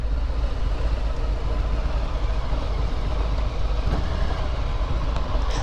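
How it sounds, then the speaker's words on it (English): A 2018 Harley-Davidson Street Bob motorcycle out on the road, splitting lanes in traffic: a steady, loud rush of wind and engine rumble that stays at a constant level throughout. "splitting lanes in this thing is so easy because it's such a narrow profile bike"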